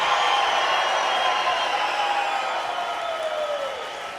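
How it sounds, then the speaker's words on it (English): A large crowd cheers and applauds wildly at a lively orchestral event. The roar is a dense, sustained wash of noise that stays loud and steady, then eases slightly near the end. "And the crowd goes wild!"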